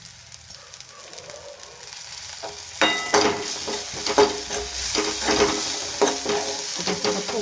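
Fresh curry leaves dropped into hot oil while cooking upma, a quiet low hiss jumping to loud crackling sizzle and sputter with scraping stirs, settling into steady spitting frying.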